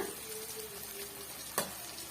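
Plantain pieces fry in a pan with a soft, steady sizzle, close and quiet, broken near the end by a brief scrape or stir.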